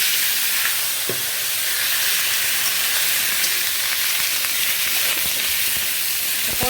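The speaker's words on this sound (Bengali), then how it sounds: "পটল আর আলুটা ভেজে নিচ্ছি।" Pointed gourd and potato pieces frying in a pan give a steady, dense sizzle throughout, with a few brief knocks and scrapes from stirring.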